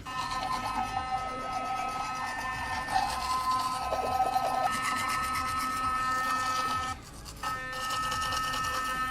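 A Fairywill P11 sonic whitening electric toothbrush brushing teeth, a steady high buzzing drone with scrubbing and rasping texture, close and continuous for several seconds, with a brief dip in the middle.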